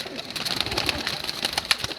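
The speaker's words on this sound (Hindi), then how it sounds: "ये ले, ये भी कबूतर देख लें जी, कसूरिया" Kasuri pigeons in a loft coo and rustle close by, with soft wing flaps and scattered calls over a steady low murmur.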